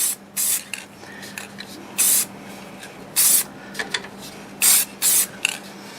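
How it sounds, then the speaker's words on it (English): Sprayed lacquer hisses in six short separate bursts onto a wood-turned padauk bowl, each spray loud and close with quiet pauses between. "I'm going to put some lacquer on it, sprayed on lacquer."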